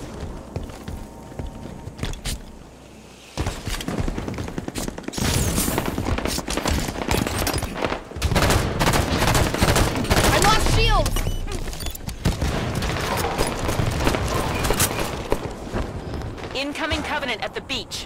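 Battle in Halo 5: Guardians with bursts of automatic gunfire, running footsteps and impacts, moderately loud and varied, as combat voices call out throughout.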